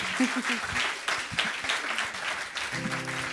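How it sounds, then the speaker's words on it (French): A crowd claps steadily and briskly, a dense patter of applause that carries on throughout, with a low tone entering near the end. "On peut l'applaudir."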